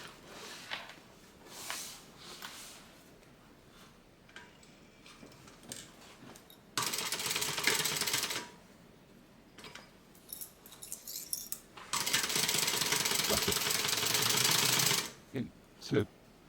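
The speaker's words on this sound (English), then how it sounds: "I'm going to stitch all the way up until this spot right here, my other stitch line." A sewing machine stitches a fabric tote bag in two fast, whirring runs, the second longer, between stretches of quiet handling noise and someone speaking.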